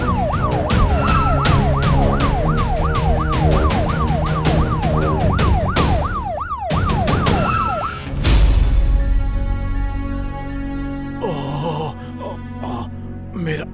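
Ambulance siren wailing in a rapid up-and-down sweep, loud and close, for about eight seconds, then cutting off into road and vehicle noise after an accident scene, with a voice briefly speaking near the end.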